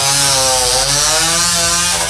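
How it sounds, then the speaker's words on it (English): Loud, continuous chainsaw engine drone from the film Troll 2, a steady buzzing roar with no pause and no talking. "The chainsaw's not even moving."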